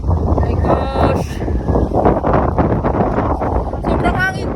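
Strong wind buffets the microphone outdoors at Marilig, a steady loud roar lasting throughout with people talking and shouting over it.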